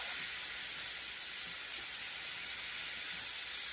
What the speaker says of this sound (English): we'll let the shrimp cook in the jambalaya sauce